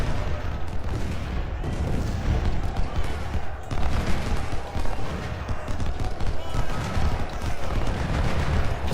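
Heavy massed musket fire rolls across an Ultimate General: Shiloh Civil War battlefield, a dense, continuous crackle of distant volleys and rumbling booms, with someone talking over it.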